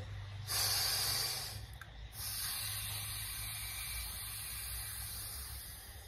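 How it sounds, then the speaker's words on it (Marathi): Sheetali pranayama breathing: air is drawn in through the tongue in a steady, soft hiss held for several seconds after a sharper opening intake, heard close with no talking. "जिभेने श्वास घ्यायचा, थोडं थांबायचं"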